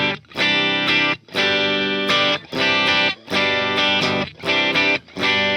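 Electric guitar run through a high-gain preset on a multi-effects pedal, chugging in six thick, distorted strummed bursts separated by brief gaps, loud and close with no talking.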